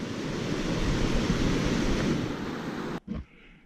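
Rushing water of Joffre Creek at a trail crossing, a loud, steady broadband roar close by that stops suddenly near the end, leaving quieter muffled noise.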